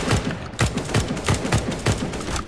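Gunfire from Counter-Strike: Global Offensive rings out as a steady burst of rapid shots, roughly five per second, loud and close with no pause.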